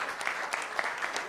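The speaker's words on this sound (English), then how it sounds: "Please, a round of applause for the panel." Audience applause at a panel event, a steady patter of clapping from a crowd filling the short moment.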